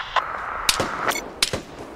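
Airstrike in Vigor with bombs hitting a rooftop, a few sharp separate blasts in quick succession over a steady low background rumble.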